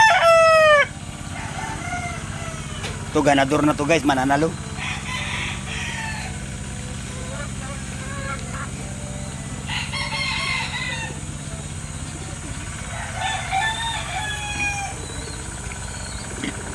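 Backyard fighting roosters crow loudly and close by, with a few separate cock-a-doodle-doos and some clucking between them, while someone talks briefly at the start.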